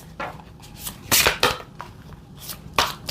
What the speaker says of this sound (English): Finding a way to shuffle these cards because they're so big.